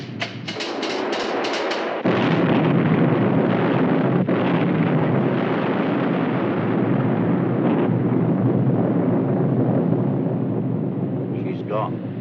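A torpedo strikes a ship in a 1953 naval war film: after a short burst, a loud, sustained roaring blast rumbles on for about ten seconds, with a faint voice briefly under it.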